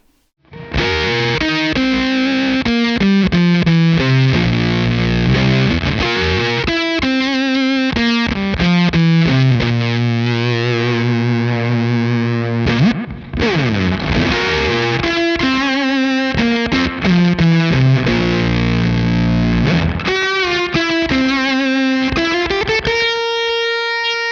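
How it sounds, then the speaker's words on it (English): An electric guitar played through the fuzz and echo of a Benson Deep Sea Diver pedal: thick, distorted sustained notes and riffs with trailing repeats, loud and continuous for about twenty seconds with no voice. "Let's just hear the fuzz into the echo"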